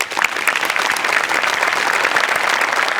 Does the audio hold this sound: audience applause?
yes